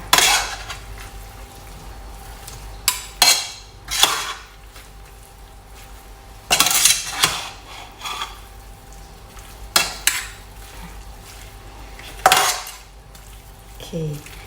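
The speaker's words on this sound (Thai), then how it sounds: "ใส่มะขามเปียกลงไปด้วยเนาะ แล้วก็ คน ๆ ให้เข้ากันค่ะ" A spoon scrapes and clanks against a pot while a mushroom mixture with tamarind is stirred, sharp metallic knocks recurring every second or two over a quiet background.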